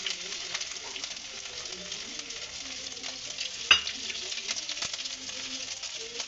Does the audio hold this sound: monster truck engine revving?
no